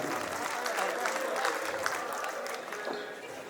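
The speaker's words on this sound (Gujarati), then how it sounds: "આપણે સૌ તાળીઓના ગડગડાટથી એમને વધાવીએ" Audience at a Sinor taluka organisation gathering claps in steady, moderately loud applause, with a few voices faintly audible under the clapping.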